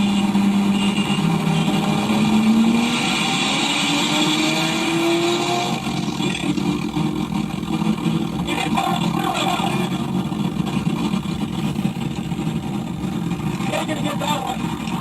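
Single-turbo car running stock fuel in a street race, a steady engine drone with rising revs under continuous wind and road noise, the car close by for the whole stretch.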